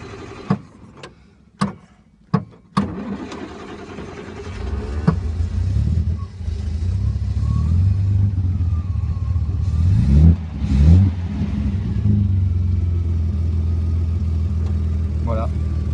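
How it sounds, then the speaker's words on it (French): A 1961 Austin Healey 3000 MK1 six-cylinder engine cranks with a few sharp clicks, catches, then settles into a loud, low steady idle with a couple of revs rising and falling, close by. "Pour entendre ce petit sympa bruit de 6 cylindres"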